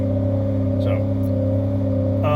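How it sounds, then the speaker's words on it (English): A car engine free revving with the hood up while a head gasket problem is checked, a steady loud mid-pitched drone held close by throughout, with brief faint squeaks over it. "Yes, it's free revving."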